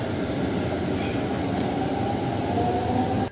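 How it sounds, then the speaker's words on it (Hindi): A Delhi metro train arriving at a station: a steady, loud rumbling roar of the train and rail noise with a thin high whine, continuous and close, ending abruptly, with no talking. "अच्छा लग रहा है कि अब मेट्रो आ रही है।"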